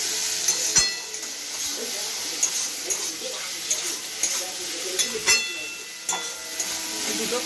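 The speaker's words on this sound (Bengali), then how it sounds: "ভালোভাবে আমি এটাকে কষাতেই থাকবো" Spices with raisins being sautéed in a pan for a chilli egg dish, giving a steady sizzle under repeated scraping stirs and a few sharp utensil knocks against the metal.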